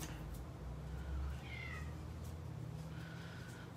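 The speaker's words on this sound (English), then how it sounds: "I just heard the pigs and Frankie meowing" A cat meows indoors, faint and distant, with a couple of soft calls rising over a steady low hum and background noise, no voices present.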